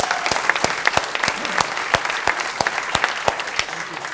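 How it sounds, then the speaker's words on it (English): Audience at a speaking business summit breaks into steady applause, a dense wash of clapping with sharp individual claps standing out throughout, loud and sustained with no talk over it. "And can we all give Des a big round of applause?"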